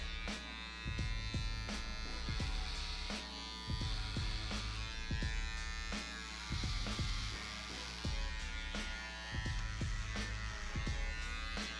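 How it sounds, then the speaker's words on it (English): An electric shaver buzzes steadily while cleaning up a low skin fade haircut, running close and continuous in short passes with brief pauses between strokes. "Now we're gonna get the shaver and clean it up."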